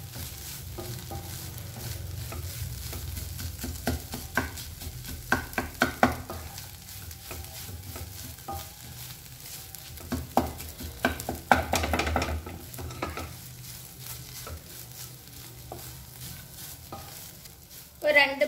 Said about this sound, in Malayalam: ഇനി നമ്മുടെ തോരനും മുട്ടയെല്ലാം കൂടി നന്നായിട്ടൊന്ന് മിക്സ് ചെയ്ത് കൊടുക്കാം.